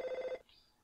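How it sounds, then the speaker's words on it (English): A cell phone rings with a short, bright electronic tone that repeats rapidly for under half a second and then cuts off into quiet. "I'm trapped in mid-stride by my ringing cell phone."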